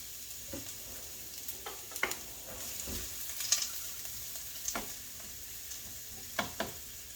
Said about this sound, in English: our oil is nice and hot, and we're going to put in our red onions and cabbage. And we're just going to saute this